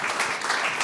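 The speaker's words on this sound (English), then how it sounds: "I'll invite you to give a big round of applause to Geoff Mulgan." An audience claps warmly to welcome a guest at a talk, a brief dense burst of applause filling the room.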